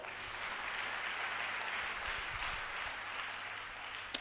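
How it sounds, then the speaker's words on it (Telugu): A congregation at a Christian ministry gathering claps in a steady, dense wash of applause that sounds fairly distant and soft, ending with one sharp knock. "కొట్టు చప్పట్లో"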